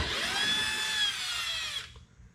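A power drill spins out a T40 bolt in one short, loud, high-pitched whir that holds steady for under two seconds and then stops abruptly, leaving near silence.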